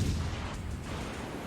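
Warship guns firing in the naval battle game World of Warships: Legends: a loud, deep boom at the start that rolls off into a rumbling decay, with no talk over it.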